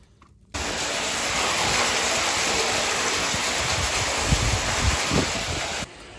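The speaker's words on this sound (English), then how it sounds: "You can hear this water tank filling up." Farm water tank for a crop sprayer filling from a pipe, a loud steady rushing gush of water that starts abruptly, runs close and constant for several seconds, then cuts off.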